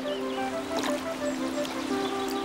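A clear, icy-cold spring stream flows with a steady, close rushing wash, while sustained tonal notes hover above it throughout.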